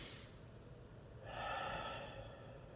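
Slow, deep breaths drawn while lying on a foam roller during a thoracic spine release, a soft exhale giving way to a fuller, airy breath, close and quiet with no speech.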